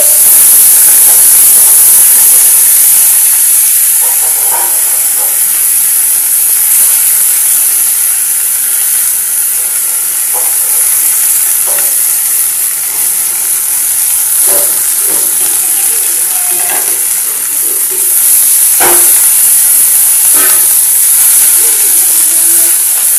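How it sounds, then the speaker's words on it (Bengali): Kharkol (elephant foot yam) leaves hit hot oil in a pan already holding fried garlic, producing a loud, sustained hiss of sizzling with a few faint clicks and stirring taps. "তো আমি এবার খারকোল পাতাগুলো দিয়ে দেবো।"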